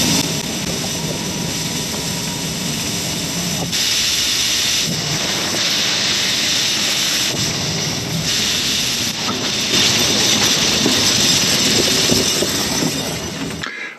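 An electric UTV with a lithium battery drives downhill dragging a Delta harrow over dirt, producing a loud, sustained rumbling roar with shifting scraping texture and no pauses.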